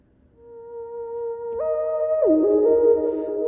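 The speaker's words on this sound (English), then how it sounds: "There's your theremin." A smooth electronic tone swells in, holds, then slides between pitches in a sustained, wavering, theremin-like synth voice.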